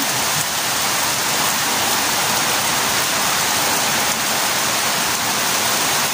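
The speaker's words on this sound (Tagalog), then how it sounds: "Umuulan guys, lakas ang ulan." Heavy rain pours down steadily on a hut, a dense, loud hiss of drops hitting surfaces with no pauses.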